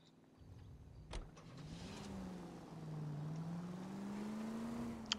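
A car in a video game pulls away, its engine rising and falling in a steady drone as it accelerates off, with a brief thump early on and no talking over it.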